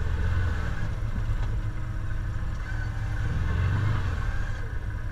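An ATV on a ride across Newfoundland rumbles steadily as it drives over an obstacle, its engine droning close and continuous with a few surges in load and no talk.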